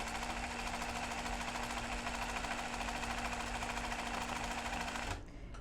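A sewing machine running a wide zigzag stitch for free-motion embroidery on up-cycled clothing, whirring in a fast, steady rhythm close up for about five seconds before it stops abruptly.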